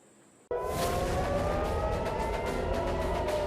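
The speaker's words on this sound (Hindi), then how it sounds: "ईरान की वजह से इजराइल में आजकल इसी तरह हमले का सायरन बजने लगता है।" An air raid siren warning of an Iranian missile attack in Israel starts abruptly after a short quiet moment, then wails loudly and steadily with a rising pitch.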